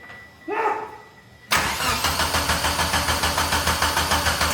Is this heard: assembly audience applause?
no